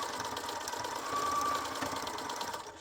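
A sewing machine stitches binding onto an art quilt, a continuous close mechanical whirr and rattle holding steady for a few seconds with no talking.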